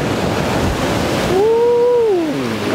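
Ocean waves crash and wash against coastal rocks in a loud, steady roar that fills the whole stretch, with a brief high tonal squeal rising over the surf partway through and no talking.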